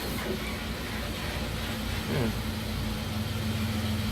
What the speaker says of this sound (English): The sound of an engine working brought me back to reality.